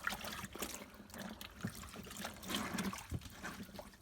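A Costway Giantex twin tub washing machine during its rinse cycle, water trickling and sloshing in uneven splashes, fairly quiet and close.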